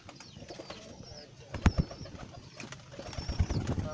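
Pigeons coo softly amid a brief flutter of wings, with scattered bird sounds and faint background noise.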